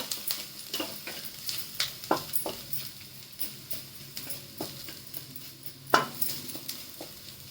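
Bitter gourd curry with ground masala paste being stirred and sautéed in a pan, a soft steady sizzle under repeated scrapes and clinks of a spoon against the metal.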